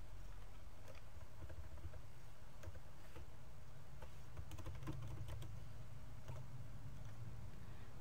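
Computer keyboard typing at a desk, with faint, scattered keystrokes in an irregular patter over a low steady hum and no voices.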